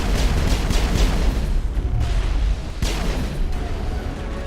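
Gunfire bursts in the Mass Effect video game, loud and close, with sharp booming shots in the first half, a brief lull, then another heavy burst of shots.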